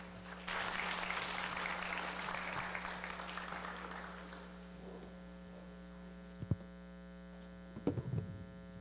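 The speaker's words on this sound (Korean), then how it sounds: "우리 힘차게 박수로 이 시간 한번 맞이하겠습니다." Church congregation at a youth conference worship service applauding to welcome the pastor, a broad wash of clapping that fades out over several seconds above a steady mains hum, followed by a few isolated knocks.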